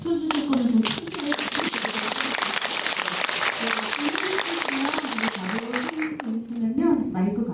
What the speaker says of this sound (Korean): 저 박수 쳐주실 거는 좀 크게